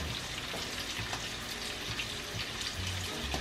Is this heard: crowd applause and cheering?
no